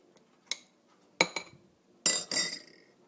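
A spoon clinks against a glass while Kool-Aid is mixed: a few sharp, separate clinks, then a quicker cluster of rattling taps near the end, close and clear in a quiet room.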